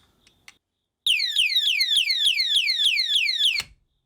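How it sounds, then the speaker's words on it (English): A car anti-theft alarm device goes off, shrieking loudly and close by in a rapid, repeating up-and-down warble of piercing tones that lasts about two and a half seconds, then cuts out abruptly after a couple of faint taps. "is that the alarm?"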